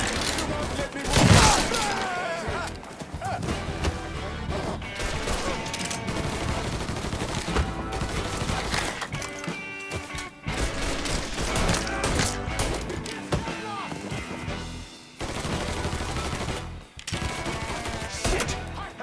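Dense gunfire from a Mafia III gunfight, bursts and single shots crowding together under music and shouted speech, near and loud throughout with a brief pause around the middle.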